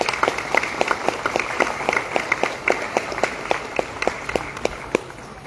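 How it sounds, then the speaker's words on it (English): Audience applause at an outdoor courthouse clock tower rededication ceremony, with crisp individual claps standing out over a moderate, steady patter from a modest crowd, with no talk. "Ladies and gentlemen, please join me in a round of applause."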